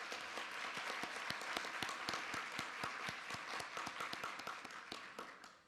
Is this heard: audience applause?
yes